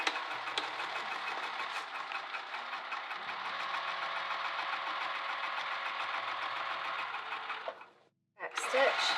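A sewing machine stitches a handbag with a fast, steady mechanical whir and needle clatter, running continuously for about eight seconds before stopping briefly and starting again.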